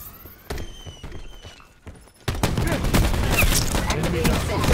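Rapid gunfire from an SG12 shotgun in a multiplayer shooter game crackles in a dense, loud, continuous burst of shots after a quieter stretch of scattered game noises and a voice.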